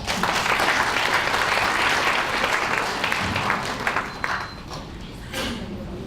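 An audience at a launch ceremony in Haiti bursts into sustained, dense applause, loud and steady for several seconds before thinning slightly near the end.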